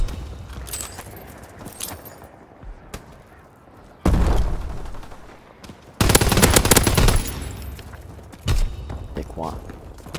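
Bursts of gunfire in Call of Duty WWII ground war combat, loud sustained volleys starting around the middle and again near the end, with quieter stretches between.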